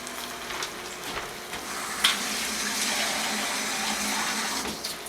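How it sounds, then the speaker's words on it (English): Half a can of water is poured into a cooking pot of tomatoes for fish soup, a steady rushing splash over a soft sizzle lasting several seconds, with no one talking. "I'm going to also put in a half a can of water."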